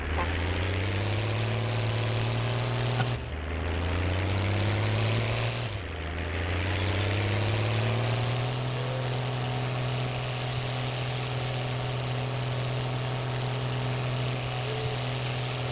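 A tractor engine in Farming Simulator 19 drones steadily and loudly throughout, with a strong low hum that dips and climbs twice early on as the revs change, then settles into an even, continuous run.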